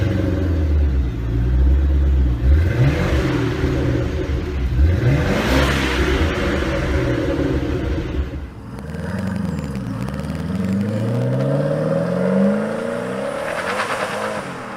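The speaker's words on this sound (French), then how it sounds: "La 3200 n'est donc pas qu'une jolie voiture, et en plus de ça, elle a le bon goût de délivrer des vocalises agréables à l'oreille" A Maserati 3200 GT's engine revs repeatedly up and down, loud and close, with deep rumbling throttle blips and rising and falling pitch sweeps over about fifteen seconds, with no talking.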